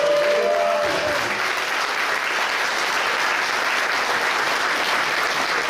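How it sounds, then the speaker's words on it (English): Parents and spectrators at a children's dance camp performance burst into full, even applause after a dance number, a steady roomful of clapping with a voice briefly audible at the start. "Give them a great round of applause."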